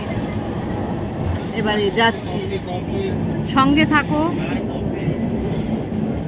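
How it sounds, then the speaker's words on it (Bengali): A train bound for Kanyakumari rumbles along, heard from inside the carriage, with bursts of high metallic wheel squeal over the steady roar while a person talks briefly. "দেখো ট্রেনে উঠে পড়েছি কন্যাকুমারীর উদ্দেশ্যে"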